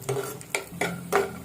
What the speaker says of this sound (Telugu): జీడిపప్పు కొంచెం వేగిన తర్వాత కిస్మిస్ కూడా యాడ్ చేసుకుంటున్నాము.